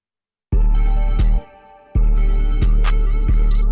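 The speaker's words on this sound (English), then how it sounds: "I just changed the lead preset to this new romantic preset." A synth lead on a romantic preset in FL Studio plays loud, sustained notes with bright harmonics, dropping out briefly before resuming with sharp note attacks and no voices.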